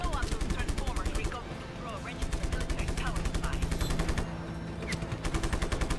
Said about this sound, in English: Who the frick was shooting at me?